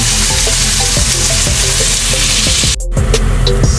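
Pancit bam-i broth with water boiling in a pot, a loud and steady close bubbling sizzle with soft clinks of a utensil and no talk.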